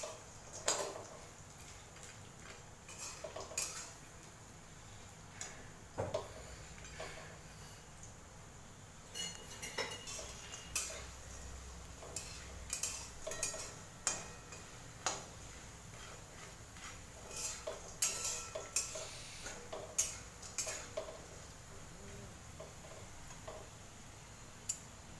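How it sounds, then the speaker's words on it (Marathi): A spatula clinks and taps against a pan while kanda vada (onion vadi) pieces roast, scattered light metallic ticks and scrapes over a quiet background hiss. "आता हे छान भाजून घ्यायचा,"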